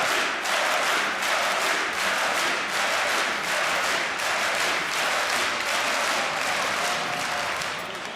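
A packed arena crowd at DreamHack Winter 2014 in Jönköping roars with sustained applause and cheering during a CS:GO match between NIP and LDLC, a dense, steady wash of clapping and shouting with no letup.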